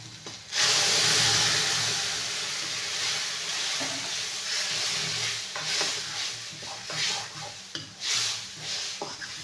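Onions hit hot oil with a sudden loud sizzle that settles into a steady frying hiss, interrupted by repeated scraping strokes of a spoon stirring in the pan.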